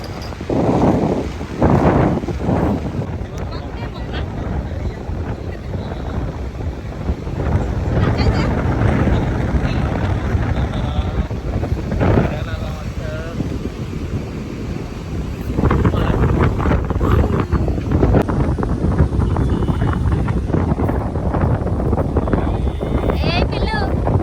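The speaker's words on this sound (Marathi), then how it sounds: "इतका वारा होता ना" Strong wind on a beach roars and buffets the microphone throughout, loud and continuous with gusty surges, while voices talk intermittently under it.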